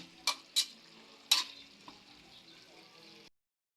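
Sautéed chayote stirred in a pan, a few sharp metallic scrapes and clacks of a utensil against the pan over a soft continuous sizzle, then sudden silence.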